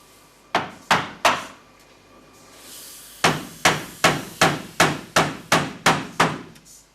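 Sharp hammer blows drive nails into wood: three quick strikes, a short pause, then a steady run of about nine evenly spaced, loud, close whacks.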